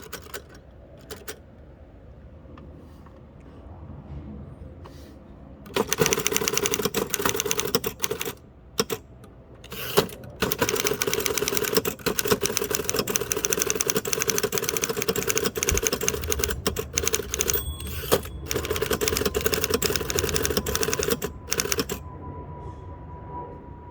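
Someone types outdoors on a 1933 Underwood four-bank portable typewriter: after a quiet stretch come rapid, continuous key strikes with brief pauses, sharp carriage clicks and an occasional bell ding near the end.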